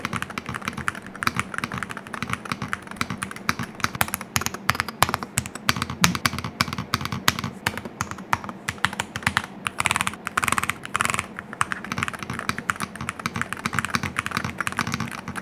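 Keys clatter on a Womier SK75 TMR keyboard in fast, continuous typing, close and crisp, with dense bursts of clicks and short pauses between runs.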